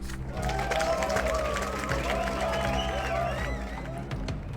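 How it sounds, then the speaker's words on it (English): Steady crowd applause and cheering from judges in the video game The Life and Suffering of Sir Brante fill the clip at a constant level, with a few voices and whistles rising above the clapping. "The judges applaud Fockraven"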